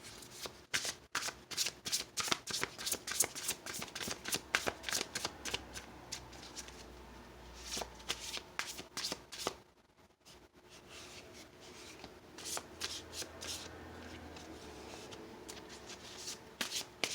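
Tarot cards being shuffled up close, rapid riffling bursts and soft flicking in repeated rounds, with a brief pause midway before the shuffling resumes.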